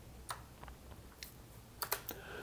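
Keyboard shortcuts typed on a computer keyboard while editing in Pro Tools: a few scattered, quiet, close key clicks, with a quick cluster near the end over faint room hiss.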